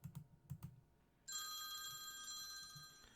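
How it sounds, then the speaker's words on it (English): A phone rings with a steady electronic ringtone that begins partway through and carries on loud and continuous, after a few soft keyboard-like taps at a trading desk. "Oh, that's my phone."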